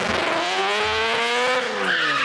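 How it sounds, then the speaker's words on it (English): Adam LZ's Toyota Supra, tuned to sound like an F1 car, screams close by at high revs in one continuous, rising and falling wail with a harsh, buzzing edge. "I ain't never heard a Supra sound like that."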